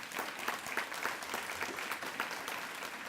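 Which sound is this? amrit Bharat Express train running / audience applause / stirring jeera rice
audience applause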